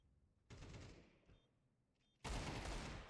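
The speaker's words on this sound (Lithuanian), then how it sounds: "Spardaus dėja iškrenta nuo Kazo šūvių." Gunfire in a video game esports match: a quiet lull, then a sustained burst of rapid shots, a pause, and a louder second volley that runs to the end.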